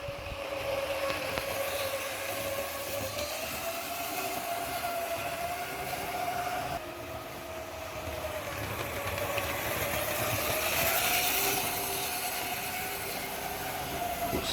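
A Triang RS52 Blue Pullman model train runs steadily on its track, giving a continuous whirring motor hum with rattling wheels, fairly close and unbroken for the whole stretch.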